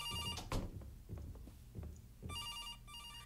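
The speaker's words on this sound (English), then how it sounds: "The phone's ringing." Telephone ringing inside a Japanese horror video game, an electronic trilling bell in two bursts over a low steady background with soft thunks, quiet and somewhat distant.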